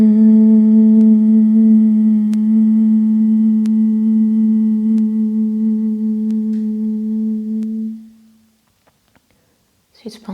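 A voice hums a steady M sound in a yoga routine for the face, neck and shoulders. One long, even, sustained note lasts about eight seconds and then gives way to near silence.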